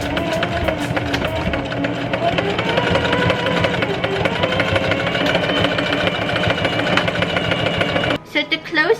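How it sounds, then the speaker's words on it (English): A sewing machine runs steadily, stitching fabric scrunchie elastics shut with a continuous whirring hum that stops near the end, close and fairly loud. "now we're just gonna sew the two elastics shut."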